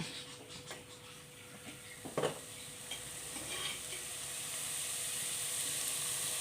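Onions sauté with Himalayan salt in a pan, giving a steady hiss of frying that slowly builds in intensity, with a few stirring scrapes and knocks early on and no talking.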